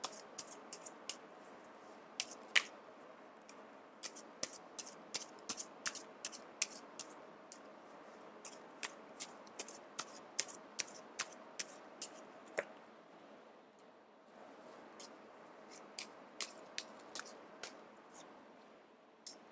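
Tarot cards drawn and shuffled from a deck during a reading, giving a run of soft, quick papery flicks and snaps, fairly close and alone with no talk.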